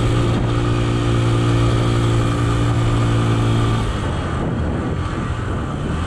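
A vehicle engine drones loudly and steadily in first gear, pulling up a steep climb on the road to Panjpeer Rocks. The tone eases slightly partway through, and no voices are heard.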